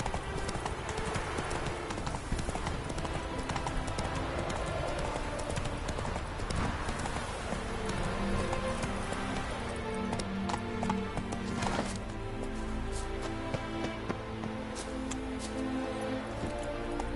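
The horse Roach galloping in The Witcher 3: Hearts of Stone, a steady rapid clip-clop of hooves that stays loud throughout.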